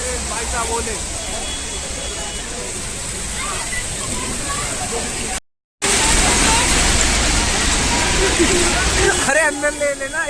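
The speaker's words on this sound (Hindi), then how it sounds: "ऐसी बारिश हो रही है।" Heavy rain during a road trip from Gurgaon toward Rishikesh, a dense continuous hiss of downpour and splashing water, briefly cut by a gap of silence, with voices talking over it near the end.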